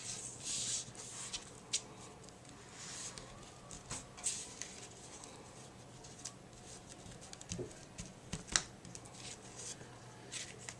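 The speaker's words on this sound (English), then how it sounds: "fold the tissue paper over the edge of your cardstock, maintaining that nice crisp edge" Tissue paper is folded over cardstock edges by hand, with soft crinkling rustles and light taps coming in irregular bursts, close and quiet.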